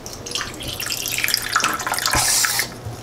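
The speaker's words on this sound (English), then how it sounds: "We're gonna put the bubbly water in." Sparkling water pours into a glass holding ice, making a continuous close splashing gush that swells toward the end and then tapers off, with no talking.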